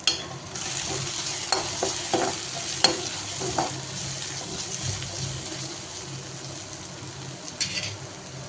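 Steady sizzling as garlic and chili powder sauté in a hot pan for mor kulambu, with occasional stirring scrapes, close and continuous, no talking.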